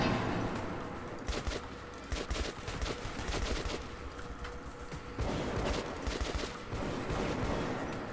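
Bursts of gunfire from a Metro 2033 Redux firefight, rapid shots and automatic fire crackling in clusters with a loud, dense, steady wash throughout and no talk.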